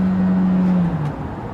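A VW Golf GTE accelerates hard in normal mode, a steady electric-motor whine sounding over low road rumble from inside the car, the tone fading out after about a second.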